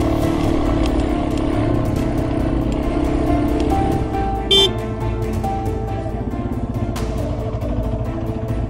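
An XT 250 motorcycle rides along a muddy mountain trail, its engine droning steadily with throttle held up, a short sharp honk-like tone cutting through briefly midway.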